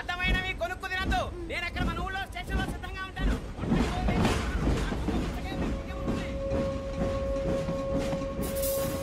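A train rolls along the railway with a continuous rumbling clatter, partly covered by people talking over it, and a steady horn-like tone sounds near the end.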